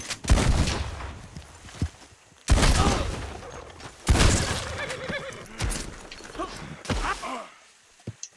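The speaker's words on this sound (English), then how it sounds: "Let's try the old shotgun." Shotgun blasts in Red Dead Redemption 2, several loud booming shots spaced a second or two apart with ringing tails, mixed with game action and a horse's whinny.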